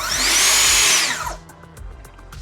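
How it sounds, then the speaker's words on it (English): A Festool TSC 55 K plunge-cut saw motor whines up loudly and then spins down over about a second, leaving faint handling clicks and quiet room noise. "To start working again, all I need to do is let go of the trigger and restart the plunge saw."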